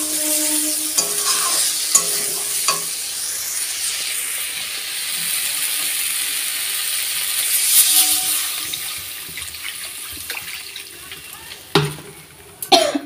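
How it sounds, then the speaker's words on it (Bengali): Water goes into a sizzling spice paste for a Bengali katla fish curry, and the loud frying hiss softens into a quieter, steadier simmer, with stirring clatter and a voice speaking over it. "জল দিয়ে দিলাম, এবার এটা ভালো করে ফুটে যাবে।"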